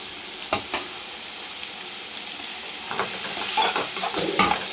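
Ginger-garlic paste, onion and tomato sauté in a pan for salna, a steady sizzle broken by scraping stirs and clinks, growing busier toward the end.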